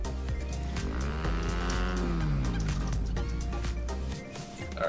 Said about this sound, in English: Never mind, it's a chicken.